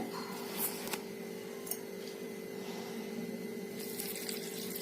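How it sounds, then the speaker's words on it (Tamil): Water poured from a glass into bajji batter in a home kitchen, a steady soft trickle and splash lasting throughout, fairly close and quiet, with no talking. "அரை கிளாஸ் ஊற்றுறேங்க"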